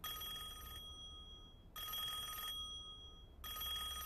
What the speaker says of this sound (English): It's the phone. It's the phone!